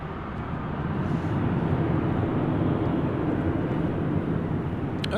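An airliner at LAX rumbles in a steady, loud, broadband roar that holds for the full stretch, with a brief high whine near the end and no talking.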